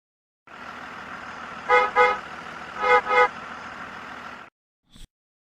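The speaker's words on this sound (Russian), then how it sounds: "Автобус." A bus engine hums steadily while its horn gives two double honks, toot-toot then toot-toot, loud and near, before the engine stops and a short click follows.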